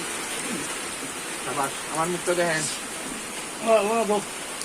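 Rain falls outdoors during a puffed rice party, a steady broad hiss running the whole time beneath people talking.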